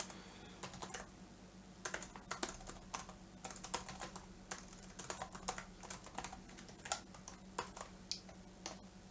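Rapid typing on a computer keyboard, quiet and close, with irregular bursts of clicking keystrokes and short pauses over a low steady hum.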